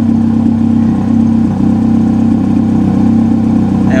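A car with a loud modified exhaust idles steadily up close, a constant droning rumble with slight fluctuations and no talk.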